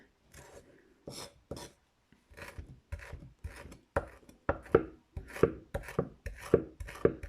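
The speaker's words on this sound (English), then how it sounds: "When chopping up herbs, I usually go for, this is actually my skinning knife." A skinning knife chops dill on a board in quick, uneven strokes that grow steadier and louder, crisp close-up taps.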